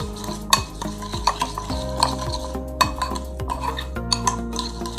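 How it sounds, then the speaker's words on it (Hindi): A spoon whisks instant coffee with a little water in a cup, rapid rhythmic scraping and ringing clinks against the sides, repeated steadily throughout. "इसको अच्छी तरह करेंगे मिक्स। इसको हमने तब तक फेंटना है जब तक ये क्रीमी फॉर्म में ना आ जाए।"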